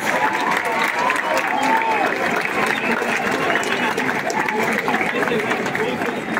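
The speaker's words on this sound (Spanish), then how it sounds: "Un aplauso fuerte para todos ellos" Crowd applause at an afternoon ceremony in Mexico City presenting awards to athletes from many sports, steady clapping mixed with crowd chatter and murmuring throughout.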